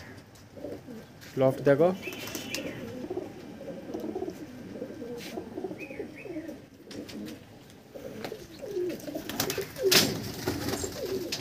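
Andhra pigeons coo and flutter softly throughout a breeding loft, with someone talking over the birds.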